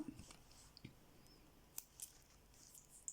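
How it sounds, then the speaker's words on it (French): Scissors snip embroidery thread up close in a quiet room, a few small sharp clicks of the blades spread over a few seconds. "Donc là, je vais couper mon petit bout là."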